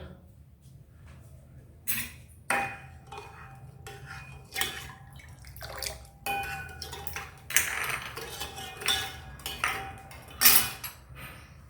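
Spoon stirring a thin sugar-and-water syrup with cardamom and food colour in a pot on the gas for potato gulab jamun, giving scattered light metallic clinks and scrapes against the pot at moderate distance, with no talk.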